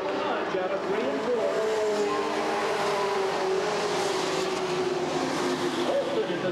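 Stock race cars roar around the Redwood Acres Raceway oval in a 1989 race, a continuous blended engine drone heard from a distance beneath an excited commentator's voice.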